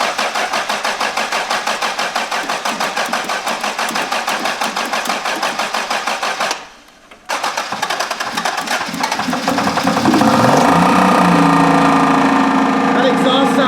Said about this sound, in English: That exhaust sounds bad.